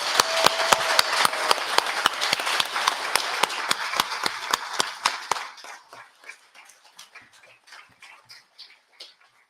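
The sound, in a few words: audience clapping for nominees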